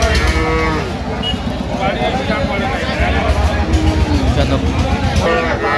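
Cows and calves lowing repeatedly at a busy livestock market (haat) in Dinajpur, Bangladesh, loud and near over a steady crowd hubbub and people talking.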